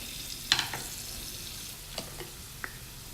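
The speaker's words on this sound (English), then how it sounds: "We are infusing the chili and garlic into the oil." Chili and garlic fry in hot oil, a continuous sizzle broken by a few sharp crackles and spatters, close by with no voices.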